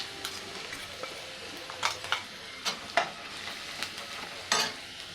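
Spice paste being stirred into onions and curry leaves frying in a pan, with scattered scraping strokes of a spoon over a soft, steady sizzle, close and moderately quiet.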